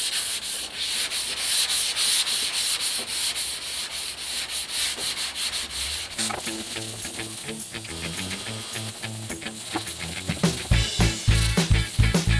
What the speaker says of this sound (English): Now, primer's really easy to sand.